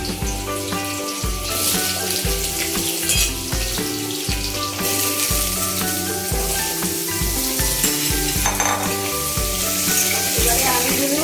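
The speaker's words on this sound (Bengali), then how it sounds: "এবারে আলুগুলো আগে ভাজা ভাজা করছি।" Potato pieces fry in oil in a wok for Bengali jhinge aloo posto, giving a steady, close sizzle with bubbling crackle that runs continuously under rhythmic background music.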